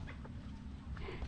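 A turkey makes a few short, quick clucks close by over a low, rumbling background.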